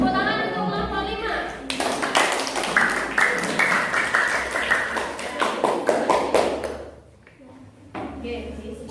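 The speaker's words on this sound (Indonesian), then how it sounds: "Tepuk tangan untuk kelompok 5" A classroom of students applauds for a group heading to the front, brisk hand claps rising to a steady patter for several seconds while a teacher's voice speaks over them before the clapping fades out.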